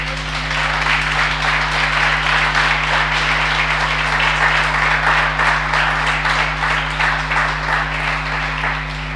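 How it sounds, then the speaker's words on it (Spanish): A church congregation applauds, a loud sustained wash of many hands clapping for the full stretch over a steady low electrical hum from the sound system. "Den un aplauso al Señor"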